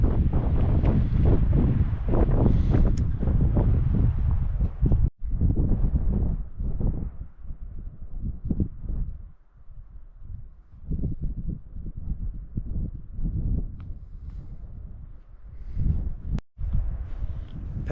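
Strong desert wind buffets the microphone in heavy, rumbling gusts that ebb and surge, outdoors at a camp in the Waterpocket Fold of Capitol Reef.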